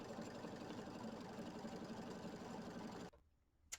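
A computerized embroidery machine stitches a quilting pass on a Kimberbell nativity pillow block, a steady close whirring hum with fast needle rhythm running for about three seconds before stopping abruptly into near silence.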